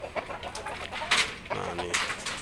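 An Indio Gigante hen clucking close by, several short clucks and chatter spread unevenly over a couple of seconds, with other farm sounds in the background.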